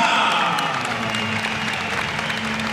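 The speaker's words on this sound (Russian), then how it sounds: "Да, действительно, они заслужили аплодисменты." After a Muay Thai fight, an arena audience gives steady, sustained applause, with a commentator's voice speaking faintly over the clapping.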